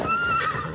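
A horse neighs in The Last of Us Part II, a single loud, close whinny under a second long with a clear rising and falling tone and no talk over it.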